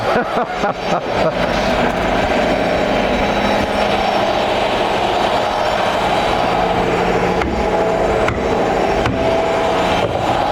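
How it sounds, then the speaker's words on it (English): Old electric motor turning over and driving an idler pulley on a counter shaft in a stair company's porch-post turning shop, a loud, steady mechanical rumble and whir that runs continuously with a few clunks near the start. "The electric motor just turned on and that idler pulley's running up on the counter shaft there."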